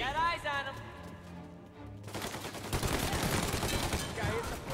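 Rapid bursts of gunfire in the 1930s crime shooter Mafia: Definitive Edition, a dense fusillade of overlapping shots that swells after a brief lull, with a voice talking over the start.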